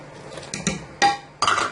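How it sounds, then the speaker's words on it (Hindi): A spoon scrapes and clinks against a pan of thickening milk being stirred for homemade khoya, in four or five short, close metallic strokes with no talking. "अब हम इसमें जो है चम्मच चलाएंगे, साथ साथ इसके किनारों से भी जो लगा हुआ दूध है उसको हम हटाते जाएंगे"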